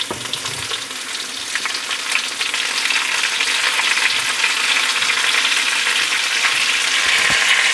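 Onions dropped into rendered pork belly fat burst into a loud, close sizzle that builds and stays strong and hissing throughout, with a brief clatter near the end and no talking.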